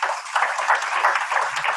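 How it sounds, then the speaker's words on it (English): Audience applause greeting a speaker introduced at a panel on Bitcoin, Ethereum and blockchain: a steady wash of many hands clapping, fairly close and continuous throughout, with no voices over it. "Can we please give a round of applause for Tobbias?"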